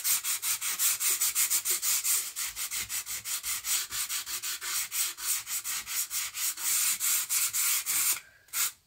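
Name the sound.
sandpaper smoothing a wooden canvas frame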